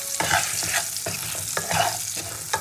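Potatoes frying with salt and turmeric in a pan, a steady close sizzle broken by repeated scraping stirs at an uneven rhythm, with no voices.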